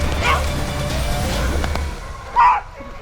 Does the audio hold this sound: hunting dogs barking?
yes